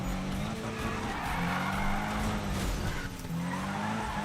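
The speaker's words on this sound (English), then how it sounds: "this thing doesn't seem to be able to drift very well" Handbrake drifting with tire skid in Need for Speed (2015): a steady roar of car engine and squealing, scrubbing tires runs unbroken for the full few seconds at fairly even loudness.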